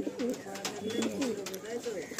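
Fancy Madrasi pigeons in a loft give soft, rolling coos that repeat over and over, close and moderately quiet, with a light hum of background noise.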